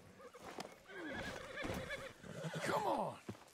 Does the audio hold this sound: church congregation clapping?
no